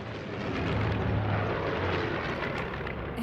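Propeller airplanes passing overhead in the video game Martha is Dead, a steady, loud droning roar that holds evenly throughout with no voices over it.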